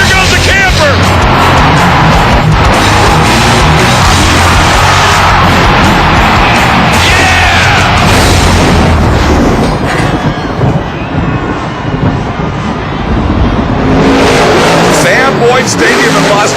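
A monster truck roars through a Monster Jam freestyle run at the world finals in Boyd Stadium, Las Vegas, driving over and crushing a camper. The engine noise is loud and continuous, with a brief dip near the end, while an announcer talks over it.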